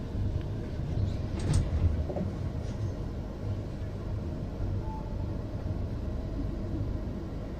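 A stationary train at Visakhapatnam Junction station, its low rumble and platform hum steady throughout, with faint clanks and a brief hiss near the start.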